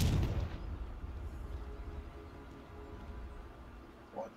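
A fire spell bursts in a low, booming explosion in the Hogwarts Legacy video game, loudest at the very start and then rumbling away into a long fading tail.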